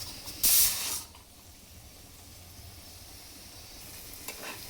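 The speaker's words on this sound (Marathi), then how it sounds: "आता ह्याच्यामध्ये टॅमॅटो घालून घ्यायचं. ते असे टॅमॅटो घालून घ्यायचे." Tomatoes tipped into a hot pan of soybean masala cooked with black masala give a loud sizzling burst at first, then settle into a steady, softer frying hiss with no talking.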